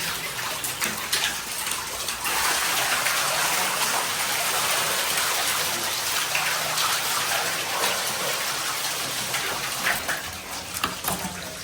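Water gushes and splashes continuously into a concrete catfish pond, a loud steady pour lasting several seconds with a few brief surges.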